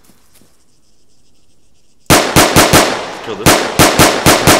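Pistol gunshots in the military video game Arma 3, a quick burst of sharp, loud cracks after a quiet start, then a second rapid volley, with a voice speaking briefly.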